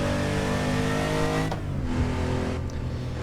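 Porsche 911 993 engine in the racing game Assetto Corsa, a loud, steady engine note running continuously, with a brief shift-like break near the middle and the revs carrying on.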